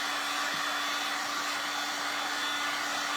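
A hair dryer blows steadily on a WoodUbend Christmas ornament, a loud, constant close whoosh with a whining hum, running alone without pause.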